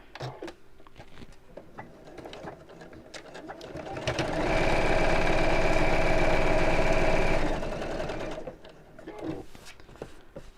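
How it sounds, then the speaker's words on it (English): A sewing machine stitches a seam in one sustained run of rapid, even needle clatter lasting a few seconds, with quieter handling sounds and brief pauses before and after. "sew around the bottom 3 sides"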